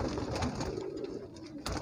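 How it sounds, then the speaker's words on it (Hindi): White pigeons, some of them crested, coo softly and continuously inside a loft. The low, murmuring calls overlap with one another and carry a faint shuffle of the birds moving about. "इस लॉफ्ट में देखिए सिर्फ आपको सफ़ेद सफ़ेद कबूतर नज़र आएंगे।"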